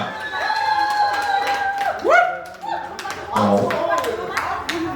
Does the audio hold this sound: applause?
yes